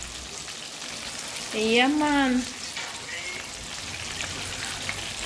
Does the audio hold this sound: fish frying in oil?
yes